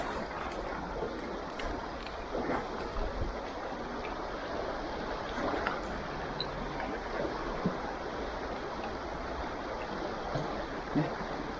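A strong river current rushes in an outdoor setting, a constant broadband wash of water that stays even in level and carries on without pause.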